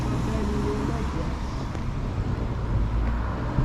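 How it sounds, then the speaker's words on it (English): A garbage truck rumbles along Boulevard de Maisonneuve West in Montreal with low engine drone and traffic noise, a brief clank partway through, and voices faint underneath. "What's that I hear? It's a garbage truck?"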